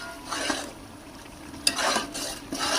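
Rice with chickpeas and biryani masala being stirred and fried in a pot, with soft scraping and gentle sizzling in a few bursts.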